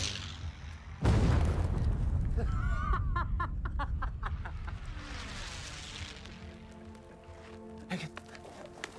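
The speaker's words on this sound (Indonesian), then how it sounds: "4 bom." Bombs dropped by aircraft in an Indonesian war film detonate with a sudden heavy boom, followed by long rolling rumble and crackling debris that slowly fades.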